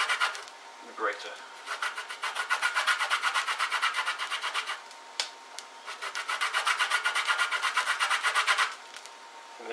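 A lemon rubbed against a grater for its zest, giving close, rhythmic rasping strokes in two quick bursts separated by a brief pause, with no talking.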